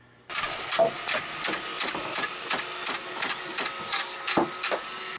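A Roomba-style robot vacuum fitted with an auto-turret runs with a steady mechanical whir, broken by regular, evenly spaced clicks and ticks, close and fairly loud.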